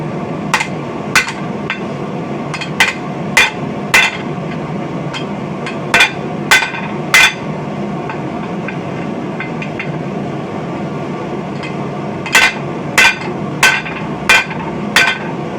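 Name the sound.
hammer dishing hot steel by hand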